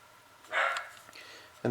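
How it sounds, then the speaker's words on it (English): Dog barking somewhere in the background, a short yip-like bark or two over room noise, with a voice talking briefly around it. "dog's barking yet again"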